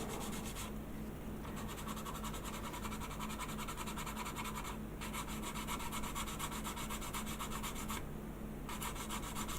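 A sanding stick rubs back and forth over a plastic model kit part from a Pegasus Hobbies War of the Worlds build, giving steady, close scratchy strokes that continue without pause, with a few brief changes in the stroke.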